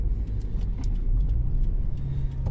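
A Toyota GT86 engine fitted with an HKS intake kit idling with a deep, throaty rumble, steady and close, with a few light clicks over the low drone.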